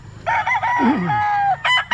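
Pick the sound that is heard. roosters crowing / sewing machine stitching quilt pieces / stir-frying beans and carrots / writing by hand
roosters crowing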